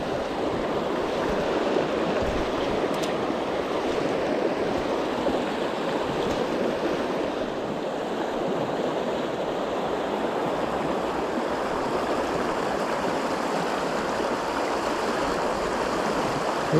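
A Border/Solway salmon river flows in a steady, broadband rushing that stays constant and fairly close throughout, with no speech over it.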